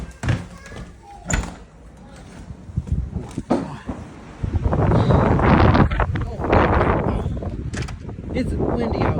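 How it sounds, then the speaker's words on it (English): High wind outdoors in Virginia, buffeting the microphone in loud roaring gusts, strongest in the second half, after a person talks at the start. "This is windy outside."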